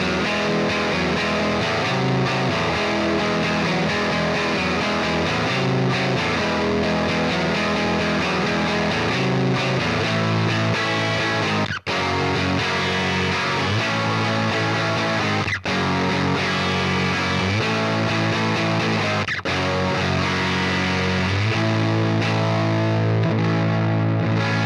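Electric guitar runs through the Vintage Vibe amp sim on its Stroke Punk preset, giving a driven, chorused tone that strums rhythmic punk chord patterns continuously for about 25 seconds, with brief dropouts between sections and no talking.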